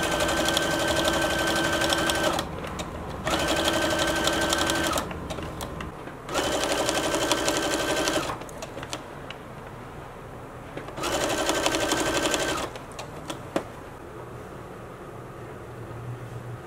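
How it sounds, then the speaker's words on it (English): A sewing machine hems the bottom edge of a luxury cocoon coat about an inch up, running in several steady bursts of close, loud mechanical whirring separated by short pauses. "I'm going to hem the bottom of the coat about an inch"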